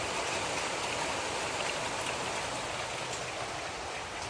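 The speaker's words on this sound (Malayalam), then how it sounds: "നല്ല മഴയല്ലേ?" Steady, dense rain pours down, a continuous hiss of drops at even loudness with no voices or other sounds over it.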